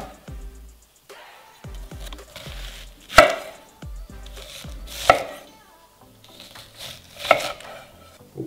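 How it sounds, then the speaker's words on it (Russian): Two large onions being cut fairly coarse into rings with a knife on a board, a series of sharp chopping knocks in an uneven rhythm with three louder strikes, close and clear with no talking. "Нам понадобится 2 крупные луковицы. Нарезаем довольно крупно кольца."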